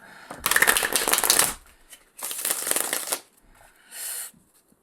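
Three bursts of tarot cards being shuffled, a long riffle, a second one, then a brief short shuffle, crisp and close with pauses between.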